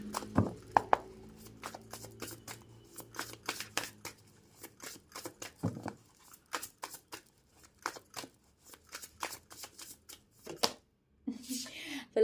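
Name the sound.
shuffling a second deck of tarot cards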